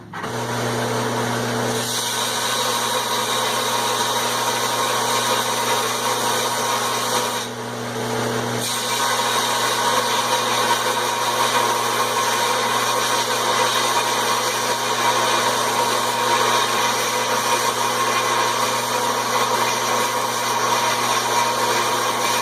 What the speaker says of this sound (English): I'm going to take this to the sander now and sand down these welds